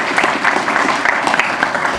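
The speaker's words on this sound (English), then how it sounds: "So big round of applause to them." A short burst of audience clapping at an LRH volunteer recognition evening, brisk and continuous with a roomy, moderately close sound.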